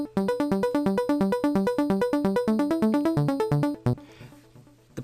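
Synth pluck programmed in FL Studio plays a rapid repeating melodic pattern of short, bright tonal notes over a steady low tone, loud and alone, before cutting to a brief noisy tail.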